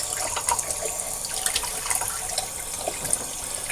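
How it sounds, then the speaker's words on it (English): Running water splashing from a sink tap as a man wets his face before shaving, a continuous close trickle and slosh with small irregular splashes, no talking. "put some water on my face."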